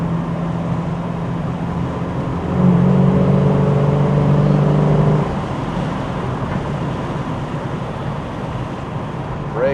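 Steady road and engine drone from a 1971 Plymouth Cuda with a 440 engine cruising at 60 mph, a continuous whir with a brief louder humming tone partway through, no talk.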